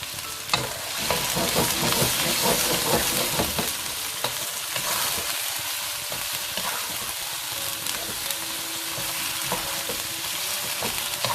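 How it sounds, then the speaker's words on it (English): Tomato puree is stirred into chicken bhuna frying in a pan, giving a loud, continuous sizzle with busy scraping and clattering of the spoon at first, settling into steadier frying without talk. "Just stir that around"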